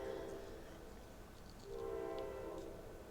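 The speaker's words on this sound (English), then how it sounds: "okay, that's a train. That's kind of annoying." A train passes nearby, its horn sounding in two long, steady blasts with a low hum between them. No one speaks.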